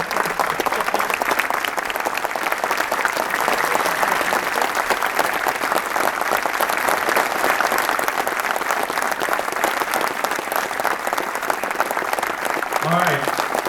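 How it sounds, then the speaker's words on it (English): A packed rally crowd at Xbox FanFest 2018 gives a long standing ovation, with dense, loud, unbroken clapping and scattered cheers sustained for over ten seconds, and a voice starts talking just as it continues at the end. "I think we should give a big round of applause to Aaron because he really drove all of it."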